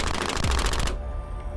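Rapid bursts of gunfire from bullets striking a steel plate ring out as a loud, fast rattle for under a second, then give way to a quieter ringing tail.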